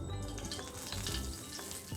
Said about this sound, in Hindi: यहाँ पे हम पैन लेंगे और इसमें हम डालेंगे थोड़ा सा घी